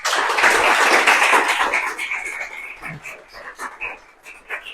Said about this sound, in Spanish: vamos a darle un fuerte aplauso al profesor Adrián